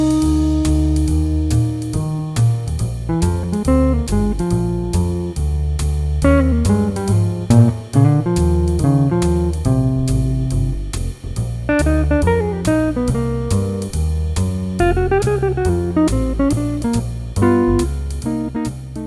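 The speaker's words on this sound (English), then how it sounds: "The first jazz solo that we're going to look at here is basically over a jazz blues, and it sounds like this." Beginner-level jazz guitar solo over a jazz blues backing, a steady stream of single-note lines on top of walking bass and comping chords, loud and continuous for the whole stretch with no talking.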